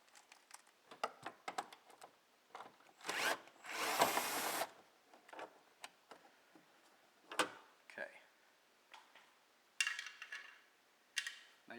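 A power tool backs a screw out from behind a Pontiac Grand Am door panel, a loud whirring burst of a second or two amid scattered clicks and handling noises, with someone talking nearby.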